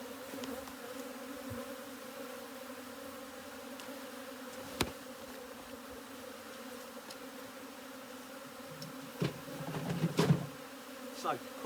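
Honeybees flying around their hive after a colony move, a soft continuous buzz of many wings with a few louder passes close by near the end.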